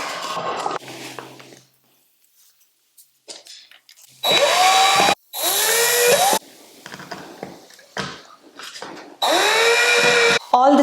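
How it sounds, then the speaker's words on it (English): An electric drill runs in several short whirring bursts, rising and dropping in pitch, as screws fasten a PVC pipe cap to a wooden base, with pauses and small handling noises between. "I am using electric drill to connect this cap to the wood base."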